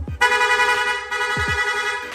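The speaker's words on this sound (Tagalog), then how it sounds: "Okay, rapid horn." An Aerox 155 v2 scooter's PIAA horn beeps in quick succession, bright and buzzy, sounding close and loud over a low engine idle.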